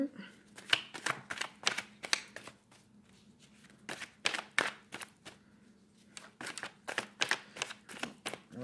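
Tarot cards being shuffled by hand, a quick papery riffle in bursts separated by short pauses, close and clear with a faint low hum underneath.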